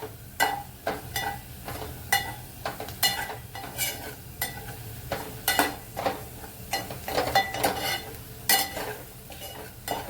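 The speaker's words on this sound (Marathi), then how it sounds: "चांगली परतून घेते तेलावरती" Ground spices, including homemade garam masala, red chilli powder, turmeric and chole masala, fry in hot oil in a pan under repeated spoon scrapes and stirring knocks, with a soft sizzle beneath.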